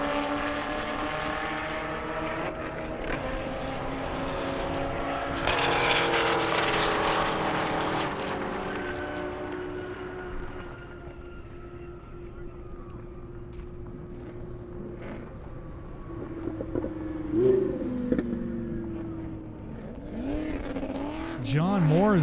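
Chevrolet Corvette ZR1 cars racing down an airstrip at a roll-racing event, engines roaring loud and close, surging to a peak and then fading as they pull away, with an announcer talking over them.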